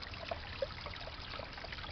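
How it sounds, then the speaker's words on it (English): Faint, steady trickle of water from a small waterfall on a G scale model railroad layout, a soft continuous dribble with no talk over it. "And another waterfall."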